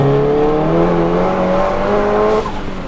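A 700 hp big-turbo Audi S1 hot hatch accelerates hard, its engine note climbing loud and close through the revs before easing off near the end, with no talking over it.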